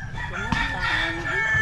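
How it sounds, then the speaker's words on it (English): Fighting roosters kept for training in the slums of Tanjay City, Philippines, crowing in a long drawn-out call. It rises and wavers over a steady din of other birds, with a sharp knock partway through. "Are those killer roosters?"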